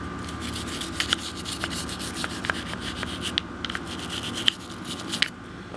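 A small cleaning brush scrubs down inside a firearm's action near the extractor, giving a steady close bristly rasp with quick sharp strokes scattered through it.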